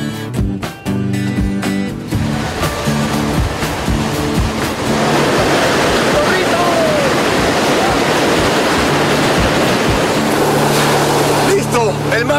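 Warm, calm sea waves wash continuously onto the beach at Zorritos, Peru, a steady broadband surf wash filling the scene after a brief opening of other sounds.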